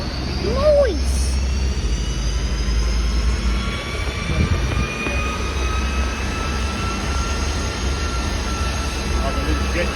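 A small jet aircraft at an aviation museum, its engine roaring steadily with a rising whine that holds loud and close through the whole stretch, while people's voices break in briefly near the start.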